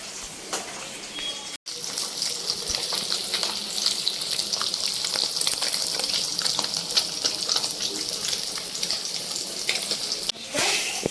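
Katla fish pieces frying in oil, a loud, dense and continuous sizzle heard close up, with one brief break early on and no talk.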